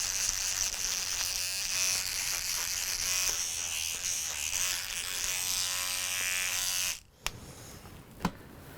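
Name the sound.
electric toothbrush cleaning a band instrument mouthpiece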